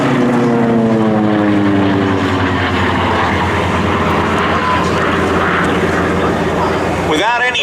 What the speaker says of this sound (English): It's good to hear these round engines as we take you back to World War II.